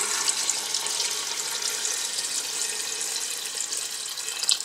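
Water pours steadily into a pot of meat for Algerian couscous royal, about 1.5 litres, a continuous close hiss and splash with no talking.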